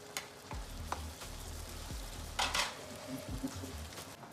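Ginger garlic paste sizzles softly in a pan while a spoon stirs it, faint frying hiss broken by several quiet scrapes and taps against the pan, no voices.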